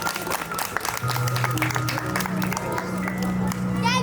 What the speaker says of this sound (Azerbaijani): Alqış istəyirəm